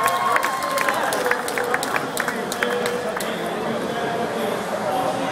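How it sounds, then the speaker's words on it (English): A crowd applauding in a large hall at a combat sports event's 83 kg final, scattered claps and cheers blended with ambient chatter and occasional sharp sounds, moderately loud throughout. "Give back that finest round of applause, please."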